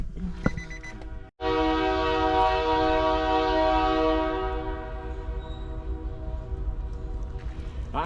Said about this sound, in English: I hear the train a-comin'.